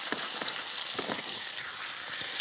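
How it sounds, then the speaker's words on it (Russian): Spaetzle fry in melted butter in a hot pan, giving a steady, close sizzle with a few soft crackles and stirring movements and no talking. "Вот как они смачно жарятся."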